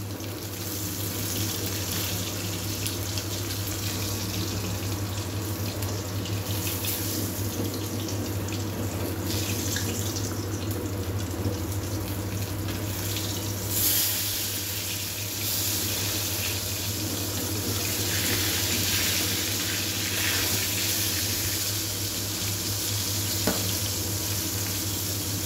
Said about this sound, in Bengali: এখানে মাছটা ভাজা চলছে।